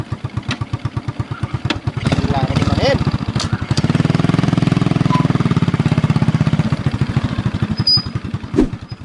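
A motorcycle engine sputters with rapid, uneven putters, catches and settles into a loud, steady close-up running chug, then fades back to irregular pops, while someone speaks briefly over it.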